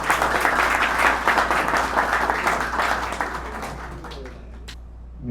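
An audience claps in sustained applause that gradually thins out and fades, with a few scattered claps near the end.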